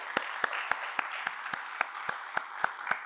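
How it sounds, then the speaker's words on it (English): Applause from an audience after a semi-final round of a school debate competition, heard as a string of about eleven sharp, evenly spaced claps over a soft wash of room noise, fairly faint and without talk. "Let's give them a hearty round of applause."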